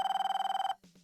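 A telephone ringing in the Police Quest: Open Season video game, a rapid electronic trill pulsing loudly and evenly for under a second before cutting off into faint room noise.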